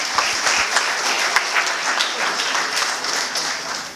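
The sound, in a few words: audience applause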